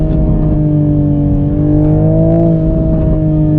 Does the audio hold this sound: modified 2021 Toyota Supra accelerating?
yes